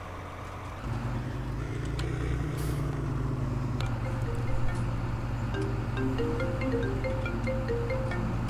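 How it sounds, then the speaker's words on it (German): Tractor engine in Farming Simulator 19 on a German roleplay farm map, a steady low drone with shifting gear-like tones running throughout, fairly loud and without talk. "Fahre ich mit dem Traktor rüber?"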